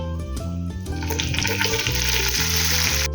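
Loud, continuous sizzle of chicken frying with garlic in a pan up close, with a faint melody playing underneath the whole time.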